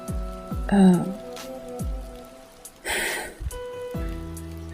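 Steady rain patters beneath soft music with falling tones, and a short burst of brighter noise breaks in midway.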